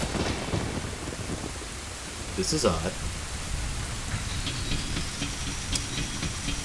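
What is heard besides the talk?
rain and thunder in the video game Ocarina of Time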